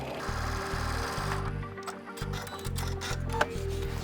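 A sewing machine stitches down the folded top edge of a surgical-style fabric face mask, its motor humming in short, rhythmic bursts with brief pauses between runs, close and steady with no talking.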